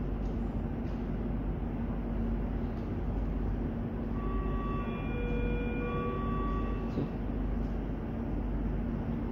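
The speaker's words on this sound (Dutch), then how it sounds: "Ja, dit is de metro." Rotterdam metro train heard from inside a carriage while riding: a steady, loud low rumble of running gear with a few brief tonal whines rising partway through, and no talking.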